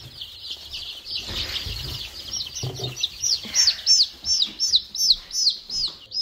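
Many baby chickens peep in a rapid, high, repeated chirping chorus, growing louder and more rhythmic, with faint rustling and low thumps beneath.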